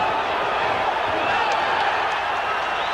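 Crowd at a boxing match between Sugar Ray Leonard and Floyd Mayweather Sr. yelling in a steady, loud roar, with the noise of the arena continuous throughout.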